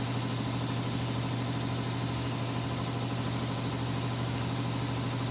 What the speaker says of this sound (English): Yeah, our compressor's loud in the laboratory